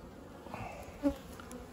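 Honey bees buzz around a hive in short, close, fairly faint drones with a brief louder swell partway through, outdoors during a winter check.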